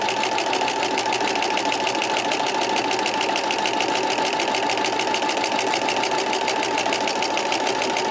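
A sewing machine with a walking foot quilting a wavy line, running at a steady, even stitching rhythm without pause, close and loud with no talking.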